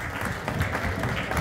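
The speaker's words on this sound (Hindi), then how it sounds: "आपकी भरपूर तालियों के साथ" A crowd at a Pakistani community gathering in Frankfurt claps in a short, dense, loud burst of applause.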